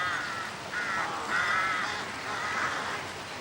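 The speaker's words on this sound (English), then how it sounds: "Carrion crows. They've earned their name." Carrion crows caw repeatedly in the open countryside, a run of harsh, overlapping calls over a steady hiss of outdoor air.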